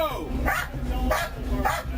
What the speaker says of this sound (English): Dog in the car!